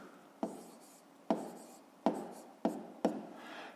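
Pen or pencil writing out a fifth-grade math solution on paper, five sharp strokes or taps at roughly even intervals, each followed by a short scratchy scribble, close and fairly quiet.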